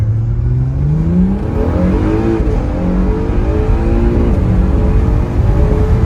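A 2017 Acura NSX hybrid accelerates hard, heard from inside the car, its engine note climbing through several gears in a loud, continuous, rising whir with no talking.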